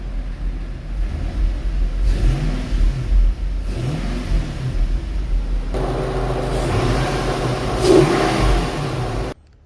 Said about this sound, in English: I'll kind of show you guys what it sounds like right now with the stock intake.